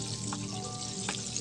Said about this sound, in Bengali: চিকেনের গায়ে তেল দিয়ে দিব, তাতে সব চিকেন ভালোভাবে ভাজা হবে